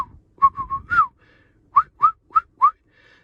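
A man whistles a secret signal imitating a bird call, several short rising chirps in two bursts with a pause between, close and clear in a quiet room.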